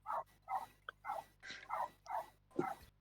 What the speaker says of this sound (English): Yeah, sorry, those are my dogs.